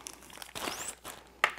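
A plastic bag from a hydroponic indoor herb grow kit crinkles and rustles in a few close, irregular bursts, with one sharp crackle near the end.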